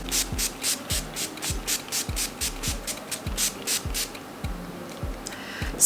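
A makeup setting spray bottle is shaken rapidly and rhythmically, a quick series of rattling swishes repeating steadily up close.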